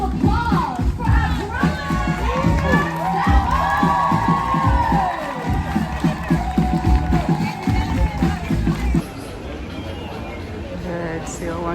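Crowd at an Animal Kingdom show cheers, whoops and claps loudly, a lively mix of shouting voices and applause that runs continuously and thins near the end.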